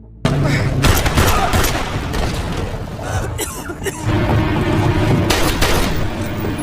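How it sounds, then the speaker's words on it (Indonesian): Gunfire rattles through a fierce film gunfight, dense bursts of shots and booming impacts layered together, loud and continuous with a few sharper cracks standing out. "Lalu baku tembak sengit kembali berlanjut."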